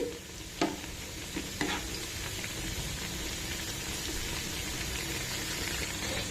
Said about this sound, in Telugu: సో వేగిపోతున్నాయి కదా మనవి ఇవి కూడా కంప్లీట్గా వేగిన తర్వాత తీసేసుకుందాం